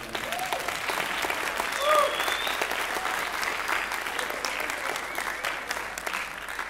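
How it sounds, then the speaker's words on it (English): Sustained audience applause fills a school concert band's spring concert hall, a steady dense wash of many hands clapping with a brief swell near the two-second mark and no pause throughout. "Please give them a round of applause for helping out."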